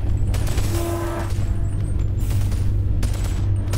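Rapid gunfire bursts from the VR shooter Boneworks, continuous and loud across the whole stretch with a steady low rumble beneath, no voices.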